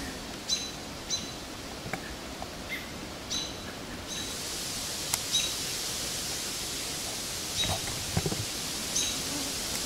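Young robins that have just started flying call in a forest: several short, high, thin chirps sound sporadically and faintly, at a distance, over a steady hiss of background noise.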